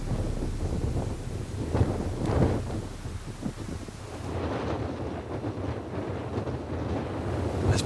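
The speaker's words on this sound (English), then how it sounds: "This bloody wind." Strong wind roars across a microphone while a cyclist rides on a long-distance round-the-world trip, a steady loud rumbling buffet with gusts and no talking.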